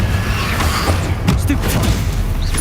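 A Confringo fire spell goes off in Hogwarts Legacy: a few sharp, bright bursts cut through a steady rumble of game ambience, close and fairly loud, with no talk.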